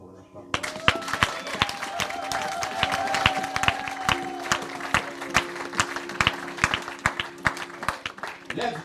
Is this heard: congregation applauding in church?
yes